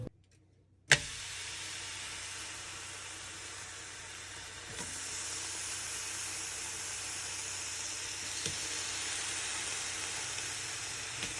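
Bacon fries in a pan as a steady, even sizzle that starts abruptly after a brief silent moment and holds close and constant, growing slightly brighter midway.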